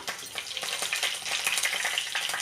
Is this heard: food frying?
yes